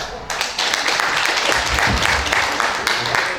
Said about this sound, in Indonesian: Tepuk tangan yang ikhlas sekali lagi